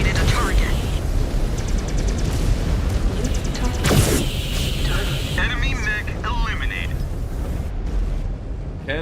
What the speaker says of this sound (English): Ammo explosion, he's gonna be hurting real bad.